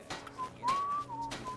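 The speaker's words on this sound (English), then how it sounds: "This man's whistling." A man whistling in The Elder Scrolls V: Skyrim, a short melodic whistled phrase of a few clear rising and falling notes, moderately near with no talking.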